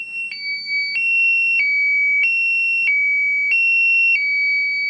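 A Medical Guardian medical alert system alarm sounds loudly and alone, alternating two high electronic tones in a steady repeating pattern, switching roughly every two-thirds of a second.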